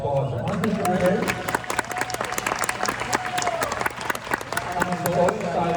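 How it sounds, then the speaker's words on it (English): An audience applauds competitors, scattered sharp claps spread through a crowd with cheering, heard under a speaker's voice over a crowd murmur. "let's give all the competitors a nice applause"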